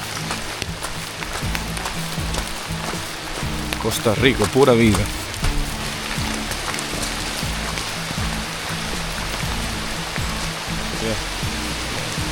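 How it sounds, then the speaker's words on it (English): Steady rain falls on a forest hiking trail in Costa Rica, a constant broadband patter that runs through the whole stretch while people talk over it. "It started raining out of nowhere."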